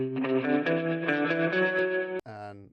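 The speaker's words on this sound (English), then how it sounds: "tremolo and reverb together are just a kind of a classic sort of surf rock cowboy guitar" A surf-style electric guitar with fast tremolo and spring reverb plays a run of pulsing, shimmering notes, then briefly cuts out before ringing into a sustained chord.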